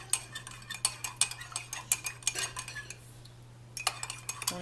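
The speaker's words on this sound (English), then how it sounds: "So I'm going to mix that all together." A spoon clinks rapidly and rhythmically against a cup while stirring espresso and syrup together, pausing briefly before the quick metallic taps resume, close and clear in a quiet room.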